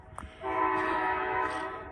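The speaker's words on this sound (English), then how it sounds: "I hear my train a-coming." A loud train horn blasts a sustained chord after a brief noisy start, holding steady and close over the rumble of rail traffic.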